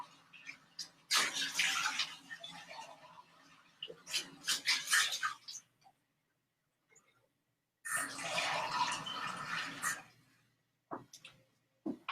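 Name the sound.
container being washed out and filled with water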